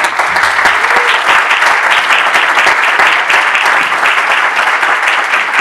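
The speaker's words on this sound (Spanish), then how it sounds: "Un aplauso, por favor." Steady, dense audience applause in a radio studio for guest Julio Revueltas on Radio UNAM, loud and continuous for several seconds with no talk over it.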